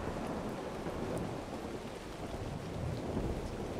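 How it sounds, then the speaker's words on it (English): Heavy rain pours steadily in the video game ARK: The Center, with deep rumbling thunder rolling beneath the dense downpour and no voices. "Speaking of rain, would you please stop?"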